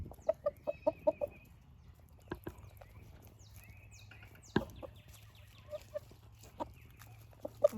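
Buff Orpington chickens cluck near the listener on a sunny morning after rain, in a pen bedded with pine shavings. Short bursts of rhythmic clucks repeat over a quiet outdoor background.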